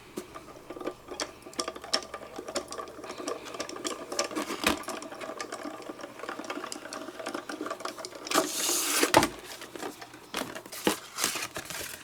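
A card slides through a Diamond Press embossing machine, giving a steady mechanical whir with rapid ticking clicks and light paper crinkles, close and continuous, with a louder rough burst near the end.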